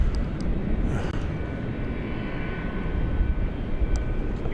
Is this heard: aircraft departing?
yes